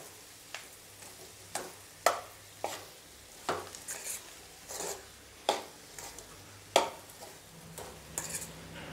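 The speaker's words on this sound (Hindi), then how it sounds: "तो चलाते हुए तब तक मिक्स करना है जब तक कि ये सारी चीज़ें अच्छे से एक जैसी मिक्स नहीं हो जाए।" A spoon stirs potatoes and spices together in a pan, making a series of soft, rhythmic scrapes and taps about one per second. The sounds are quiet and close, with no talk.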